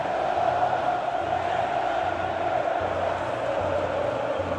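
A football crowd fills Maracanã stadium before a Flamengo match, producing a steady, dense murmur of many voices with faint scattered shouts, continuous and fairly distant.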